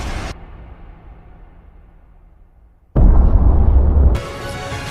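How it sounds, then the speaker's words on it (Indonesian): In a Naruto anime scene, falling moon fragments cause an explosion: a quiet rumbling tail fades away, then a sudden loud blast bursts in with deep booming weight before settling into a sustained roar. "Lalu Toneri pun menghilang bersama dengan jatuhnya beberapa serpihan bulan yang menyebabkan ledakan."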